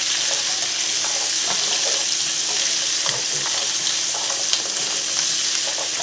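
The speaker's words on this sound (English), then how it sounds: "I'm just going to kind of stir these around until those onions become translucent and the carrots have started to soften." Onions and carrots sizzle steadily in a hot pan while being stirred, a loud continuous frying hiss with occasional scraping, heard alone up close.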